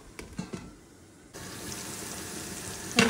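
Mustard spice paste for a kangla fish curry cooks in a pan, a few soft taps and clinks first, then a steady moderate frying hiss that ends with a sharp clatter.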